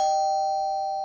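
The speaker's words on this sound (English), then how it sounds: "that's my doorbell." A home doorbell sounds one sustained, clear electronic tone, loud and close, holding steadily with no talking over it.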